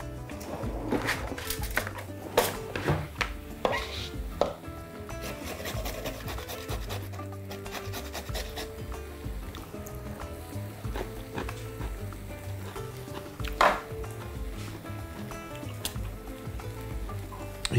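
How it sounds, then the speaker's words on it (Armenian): Pickled cucumbers rubbed over a fine grater, giving a continuous rasping scrape with quick repeated strokes and occasional knocks, close and moderately loud, with no talking. "ավելացնում ենք մարինացված մանրավարունգ, 3 հատ, այն հարկավոր է մանր անցքերով քերել"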